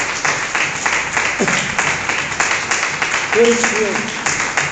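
A church congregation gives steady, rhythmic applause throughout, while a voice speaks over the clapping.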